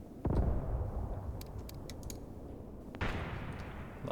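Mortar fire in the World War II tactics game Graviteam Tactics: a sharp, heavy thump opens, a second blast lands about three seconds later, and a rumbling battlefield haze with faint crackles fills the gap.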